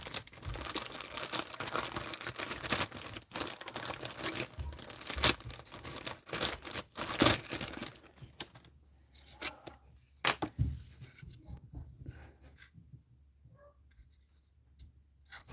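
Plastic packaging around a model truck cab being cut open, with crinkling and snipping up close for several seconds, then a few sharp clicks and handling noises dying down into near quiet.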